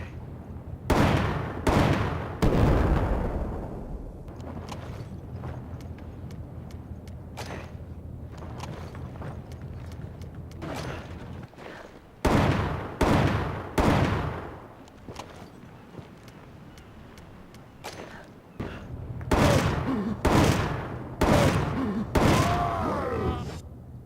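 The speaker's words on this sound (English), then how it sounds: "So, 4 shots with the M29 on a Big Mamagini, unupgraded" Smith & Wesson Model 29 magnum fired in Resident Evil 5, several heavy booming shots spaced apart in bursts, each with a long decaying tail, loud and close over low game ambience.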